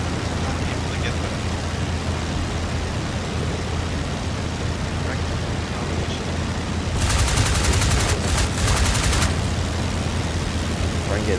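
Aircraft machine guns rattle in the flight game Flying Circus over a steady engine drone, with one sustained burst of rapid fire in the middle, loud and close.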